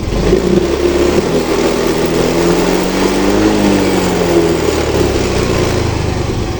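A Yamaha Mio i 125 scooter engine held at about 2,500 RPM, a steady mid-pitched drone with a slight pitch swell midway, loud and close, with no talk over it.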